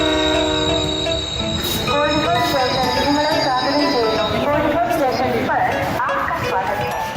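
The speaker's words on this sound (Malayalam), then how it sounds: "കൂകി വിളിച്ച് പുതിയ പാസഞ്ചർ ട്രെയിൻ കോഴിക്കോട്ടെ 4-ാം നമ്പർ പ്ലാറ്റ്ഫോമിലേക്ക് എത്തി" A new passenger train pulls into platform 4 at Kozhikode station, sounding its horn loudly and close alongside rumbling coaches and squealing wheels, while a voice talks over it.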